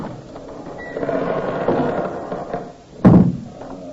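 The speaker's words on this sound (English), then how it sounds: "the door opened slowly" A door creaks slowly open in an old-time radio murder drama set at Whitehall-1212, with a low groaning sweep ending in a sharp knock-like thud.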